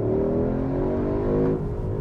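Porsche Cayenne Turbo S E-Hybrid Coupe hybrid powertrain accelerating, a steady, loud engine drone with rising harmonic tones sustained throughout, heard from inside the cabin with no talk.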